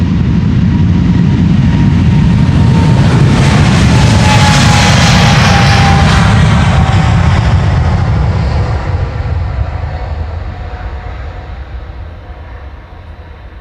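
A KLM Boeing 777-300ER widebody jet roars loudly and continuously down the Polderbaan runway on takeoff, a dense low rumble with a rising whine that begins to fade as it climbs away.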